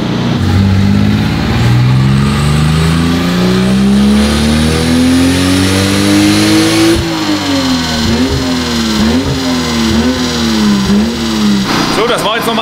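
A car engine making roughly 480 Nm, run in third gear on a dynamometer, revs loudly and climbs steadily in pitch, then cuts out at the fuel cut and judders through bouncing revs.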